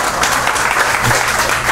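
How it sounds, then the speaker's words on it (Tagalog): Applause rises briefly from a seminar audience at a talk on success, with loud, close clapping from a small group over a short span. "Bakit si Edwin lang pumapalakpak?"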